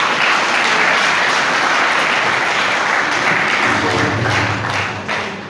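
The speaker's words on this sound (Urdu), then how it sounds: "بھرپور تالیوں میں استقبال کیجیے گا" Applause at a seminar on strengthening democracy, a hall audience clapping steadily for about five seconds and fading slightly at the end.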